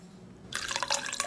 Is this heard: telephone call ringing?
no